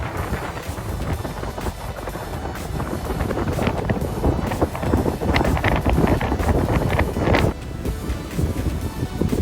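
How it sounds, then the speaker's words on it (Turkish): Strong wind roars and buffets the microphone nonstop outside Zorlu Center in Istanbul, a dense, rumbling gust noise with no voices over it. "Aşırı bir rüzgar var."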